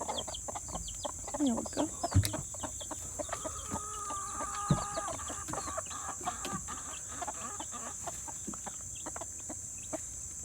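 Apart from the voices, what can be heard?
chickens clucking in coop with hatched baby chicks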